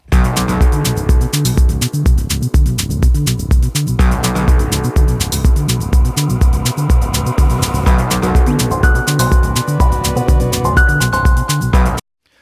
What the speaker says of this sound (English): So you get like a really nice ghostly, washy sound that opens up with that one.